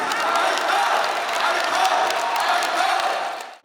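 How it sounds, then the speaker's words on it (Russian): A concert crowd in Moscow gives a loud, sustained ovation: dense continuous clapping mixed with cheers and whoops, holding steady throughout before cutting off abruptly at the end. "он завершился под бурные аплодисменты и продолжительные овации"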